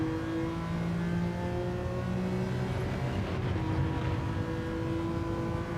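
Race car engine in Gran Turismo 7 revving steadily through a time trial lap, loud and continuous with rising and falling pitch as the throttle comes on early out of a corner.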